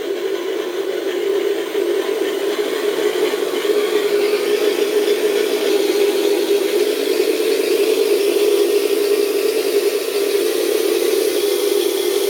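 Twin-engine sound module in a P-38 RC model plane running up, a continuous droning, buzzing engine tone that holds steady and loud throughout, with a raspy rattling edge.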